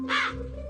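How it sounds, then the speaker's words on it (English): A single crow gives one short, loud, harsh caw close by, standing alone with no talk around it. "Yes, the crow is cawing."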